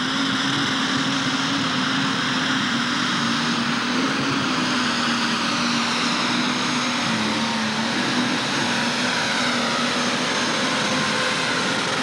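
An alcohol-burning pulling tractor at a 1995 Shepherdsville, Kentucky tractor pull roars steadily at high wheel speed, a loud continuous engine howl with a sustained tonal whine holding level throughout, no talk.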